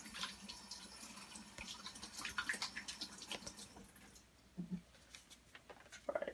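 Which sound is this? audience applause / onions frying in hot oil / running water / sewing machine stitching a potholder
running water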